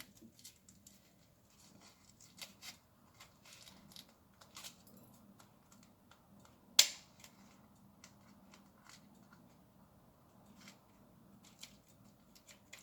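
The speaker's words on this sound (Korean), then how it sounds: "여기를 가위로 이렇게" One crisp scissor snip cuts through a dried mushroom, close by, amid quiet rustling and light handling noises.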